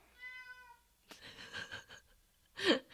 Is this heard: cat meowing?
yes